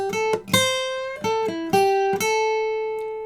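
An electric guitar plays a short minor pentatonic blues phrase: a handful of clean picked notes with a bend and a sustained final note ringing out, alone and close.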